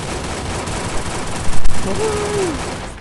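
Gunfire in a video game, a dense rattling fusillade under steady noise, loud and continuous, briefly swelling in the middle with a faint tonal sweep.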